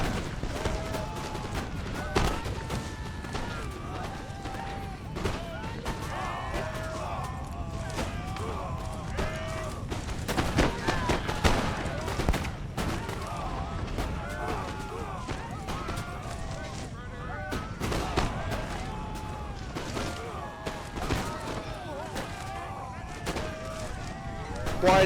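Continuous crackle of musket line volleys in Empire: Total War as British and Ottoman infantry trade fire, dense overlapping shots near and far, with someone narrating over the battle.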